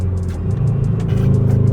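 A 2022 Subaru BRZ engine revving as the clutch is let out, a close, loud steady drone that rises slightly in pitch over under two seconds with a rough, pulsing rumble.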